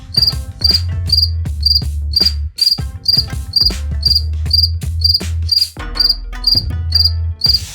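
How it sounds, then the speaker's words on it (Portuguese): A cricket chirps loudly and repeatedly in a steady, regular rhythm of short pulsing trills, close up, over a low background hum. "esse grilo canta 17 vezes em 8 segundos."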